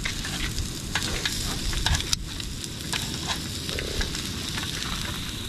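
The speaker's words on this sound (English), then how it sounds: "They're sizzling. They're cooking because they're moving." Crayfish sizzling as they cook in a pan at a van camp, a steady close frying crackle with scattered sharper pops throughout, no voices.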